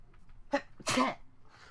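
A person sneezes once close to the microphone, a quick sharp intake followed by a loud burst and a faint trailing breath, alone in a quiet room.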